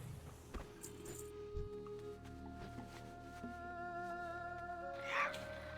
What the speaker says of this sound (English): Can't believe he's got a cat.